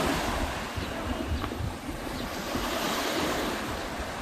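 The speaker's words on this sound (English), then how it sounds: "all those little waves breaking are breaking over the reefs." Small ocean waves breaking over shallow coral reefs at rising tide, a steady wash of surf with wind buffeting the microphone, loud and continuous.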